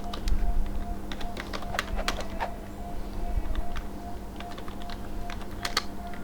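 Keys clatter on a computer keyboard in quick irregular bursts, fairly close and moderately loud over a steady low hum, with no speech.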